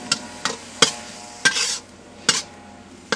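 Food fries in a pan while cooking spring rolls, pork rice bowls and meatballs, with a soft background sizzle broken by several sharp clinks and scrapes of a utensil against the pan.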